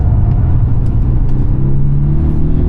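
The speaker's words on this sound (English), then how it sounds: "I can just hear the front tires struggling for their life." Polestar 1 pushed hard on a race track, its front tires struggling for grip amid a steady close engine and road rumble with continuous low droning and faint squeal; no talking.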